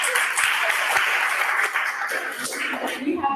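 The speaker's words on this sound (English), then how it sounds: "Give a round of applause." An audience applauds at a live maths and science talk, a dense burst of clapping with a voice briefly audible over it.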